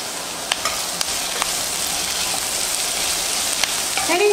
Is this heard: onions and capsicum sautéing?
yes